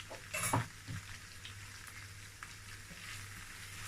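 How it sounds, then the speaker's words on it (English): Curry powder and ground black pepper frying in oil with tomato paste for a party-style beef in tomato sauce, heard as a soft continuous sizzle with a brief louder stirring burst near the start, and no talking. "When you fry it in the oil and the tomato paste, it bring out the flavor"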